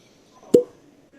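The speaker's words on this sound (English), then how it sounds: "Decent on the cork pop." A cork pops once out of a Wild Turkey bourbon bottle. The pop is quick and hollow against a quiet room.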